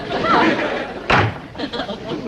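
A door slams hard inside a house, one loud sharp bang mid-clip, with a voice talking before and after it.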